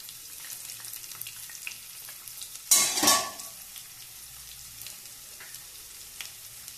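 Finely chopped onion lands in hot oil for masala oats and gives one sharp, loud sizzling burst. The hiss fades over about a second to a quiet background crackle.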